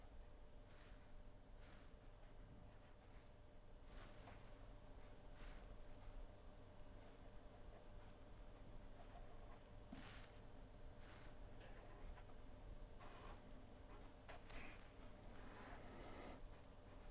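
A pen scratches out a C-type Bourdon tube diagram by hand, a very faint run of soft scratchy strokes and small taps across a quiet room.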